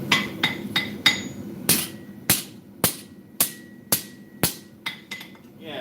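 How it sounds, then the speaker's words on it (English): Peen of a hammer strikes hot metal, rolling it into a scroll: about a dozen sharp, ringing blows in an uneven, fairly steady rhythm, close and loud, with short metallic decays between hits. "I'm using the peen on the inside and basically rolling it like a scroll"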